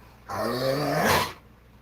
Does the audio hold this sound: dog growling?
yes